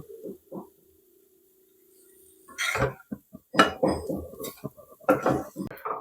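A spoon works beetroot modak mixture around a kadhai, with a quiet start followed by irregular clunks and scrapes of metal on metal, close and fairly loud.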